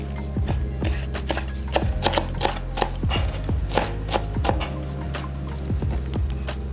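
Leafy vegetables are chopped with a knife on a board for bakwan kulit lumpia fritters, a close, rhythmic series of crisp knife chops repeating steadily over several seconds.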